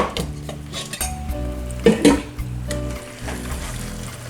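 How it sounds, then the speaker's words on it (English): A cooking spoon stirring nkwobi in a metal pot, repeated scraping and clanking strokes against the pot with a couple of louder knocks in the middle, close and alone. "So I'll give this a very good mix."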